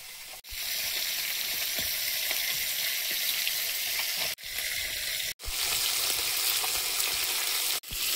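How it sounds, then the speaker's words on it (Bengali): Tilapia fish frying in hot oil, a steady loud broadband sizzle that runs continuously with a few brief breaks. "বড় মাছ 3টে আগে ভেজে নি, তারপর চুনো মাছগুলো ভাজবো"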